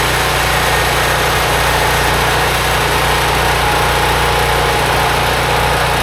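A 4000W portable generator engine runs loud and close with a constant buzzing drone and no breaks for the whole six seconds.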